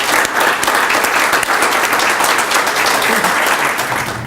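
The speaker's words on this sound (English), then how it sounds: "There's another round of applause." Audience at the 2015 UCF Alumni CECS Awards gives loud, sustained applause, a dense, even clatter of many hands that fills the room without a break.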